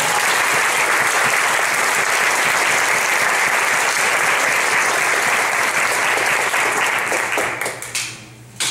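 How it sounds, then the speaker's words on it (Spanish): Audience applause at a book presentation event in Mexico, a sustained, dense wash of many hands clapping that holds steady for several seconds, then thins and breaks off near the end. "Un aplauso para todos."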